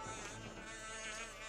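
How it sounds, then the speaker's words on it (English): Buzzing bees in a video game give a continuous faint insect drone with a wavering, swarming texture, steady throughout with no talk. "There's one more bee."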